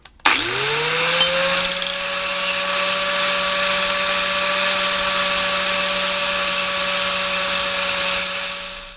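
A power tool spins up and runs at a steady high-pitched whine while buffing the exhaust of a Yamaha MT01 motorcycle, loud and close, continuous for several seconds before cutting off, no voices.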